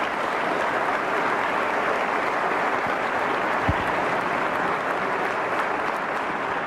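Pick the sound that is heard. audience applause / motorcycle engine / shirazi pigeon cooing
audience applause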